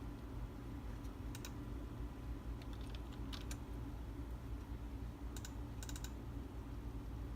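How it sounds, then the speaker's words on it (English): Keystrokes on a computer keyboard come in short scattered bursts of a few taps each over a steady fan-like hum, fairly faint and close, with no voices. "Make a big box, and we'll type the letter R."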